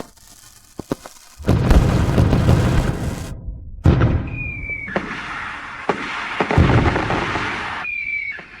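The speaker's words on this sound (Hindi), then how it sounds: "कोई उसके लिए आतिशबाजी कर रहा है।" Fireworks set off at night: a run of loud booms and crackling bursts, with a whistling rocket streaking up mid-clip followed by more sustained crackle and pops, no voices.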